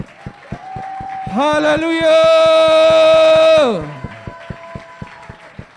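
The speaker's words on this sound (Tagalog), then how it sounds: "malakas sa palakpak para sa ating Panginoon" A church congregation claps in a steady rhythm while a voice shouts and sustains a loud, drawn-out cry of praise over it; the clapping carries on alone after the voice fades.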